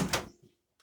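A microwave door swings open in a home kitchen while a quick mug cake is being made, giving a short close latch click and thunk followed by near silence and a faint tick.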